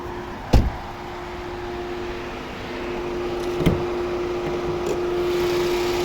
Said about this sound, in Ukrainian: Вентилятор включився, це я включав клімат-контроль.